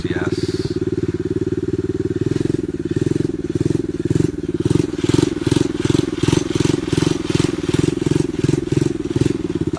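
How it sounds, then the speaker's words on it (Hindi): A motorcycle engine chugs nearby in a steady rhythmic idle, its pulses growing louder and more distinct partway through, with a voice talking over it. "ओहो मोटरसाइकिल ही बंद हो गई है, लामा साहब का नाम सुन के डर गई है लगता"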